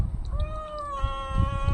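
A house cat gives a drawn-out, rising and falling meow, close and clear over faint background shuffling.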